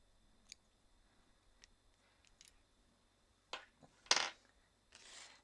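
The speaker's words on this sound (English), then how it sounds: "we're just going to trim off this excess like we did here" Small scissors trimming excess fabric off a miniature 1:6 scale table runner, giving a few crisp snips and clicks, close and clear, with soft handling noise between them.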